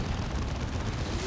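Artillery fire from a Manticore rocket platform in the real-time strategy game Dawn of War 2, a dense, continuous rumble of booming blasts and explosions filling the short span at steady loudness.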